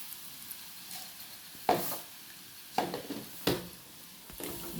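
Onions and coconut pieces frying in a pan: a quiet, steady sizzle with a few sharp stirring scrapes and clinks spaced a second or so apart.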